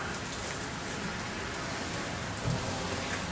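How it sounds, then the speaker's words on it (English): Steady rain pours down outside, a dense, even hiss of drops hitting surfaces, loud and constant throughout with no voices. "Just got soaked out there in the rain."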